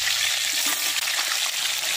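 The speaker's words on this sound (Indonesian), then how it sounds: "Selanjutnya goreng ki dulu ayamnya" Chicken pieces fry for soto banjar, Banjar chicken soup, in hot oil, giving a loud, continuous crackling sizzle with no break.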